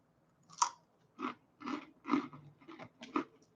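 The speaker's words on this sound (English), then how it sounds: "Crunchy." Close, crisp bites and chewing on a crunchy coconut snack, about six separate crunching bursts spaced roughly half a second apart in a quiet room.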